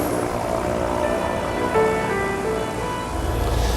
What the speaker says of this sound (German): Jetzt schwenkt er die Triebwerke hoch und als Abschluss nochmal das Schiff links-rechts